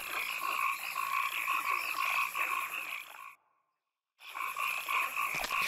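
Frogs croak in a dense, steady chorus in The Witcher 2, loud and layered with repeating calls, broken by a sudden second of silence before the chorus resumes.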